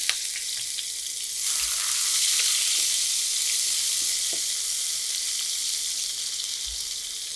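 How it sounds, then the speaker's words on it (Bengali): Chopped onions frying in a little oil in a pan for a Bengali pabda fish curry. A steady, loud sizzle swells in after a quieter start and holds, with occasional soft clicks of stirring. "এই তেলে আমি পেঁয়াজটা দিয়ে দিচ্ছি"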